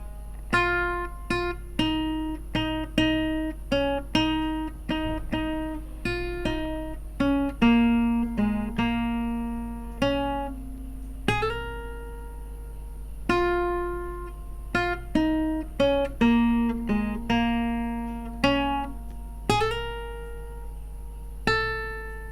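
Steel-string guitar picks the melody of a song note by note, a clear plucked line with crisp attacks and short ringing decays over a low steady hum.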